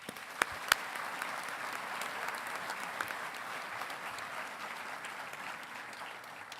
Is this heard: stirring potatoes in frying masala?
no